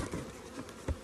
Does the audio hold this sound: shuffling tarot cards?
no